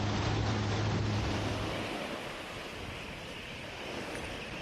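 Ocean waves churn against a boat crossing rough sea toward Lawak Island, a steady broadband wash with wind noise and a low engine hum fading after the first two seconds, no voices.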